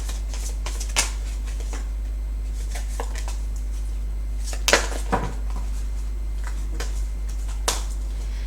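Tarot cards are shuffled and handled in an irregular run of crisp riffles and flicks, with a few sharper snaps and slaps standing out close by over a faint steady hum.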